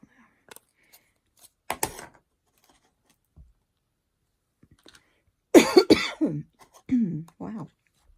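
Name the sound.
coughing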